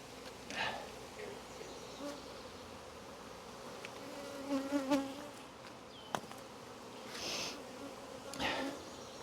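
Honey bees from a swarm being combined into a hive colony buzz steadily at close range, with a few louder passes and brief sharp sounds from handling the hive.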